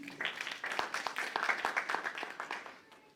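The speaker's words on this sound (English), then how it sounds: "Please give a round of applause for Angel Jyoti." An audience at a Nurses' Day event applauds in a short burst of dense, moderately loud clapping that fades out near the end.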